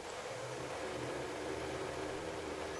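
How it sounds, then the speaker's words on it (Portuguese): Motorcycle engine in the video game 7 Days to Die, a steady, faint droning hum with rough mechanical noise, constant and unbroken while riding. "Assim a gente anda com a nossa moto toda tremida."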